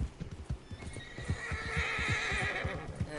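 A horse in Red Dead Redemption 2 gives a clear whinny over quick, steady hoof clip-clops, close and fairly loud, with no talking.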